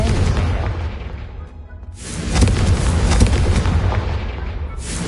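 A Confringo fire spell from the Hogwarts Legacy video game bursts into a loud, sustained blast with a booming rumble, holding steady after a brief lull, with no talking.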